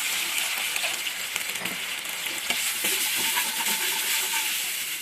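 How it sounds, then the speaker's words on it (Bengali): Spice paste loosened with a splash of water, with yogurt and ground spices, simmering in a pan for a green-banana kofta curry: a steady close hiss and sizzle with faint bubbling pops, alone with no voices. "আমার মশলাগুলো ফুটতে শুরু করেছে"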